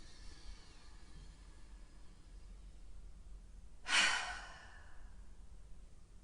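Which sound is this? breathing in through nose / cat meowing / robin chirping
breathing in through nose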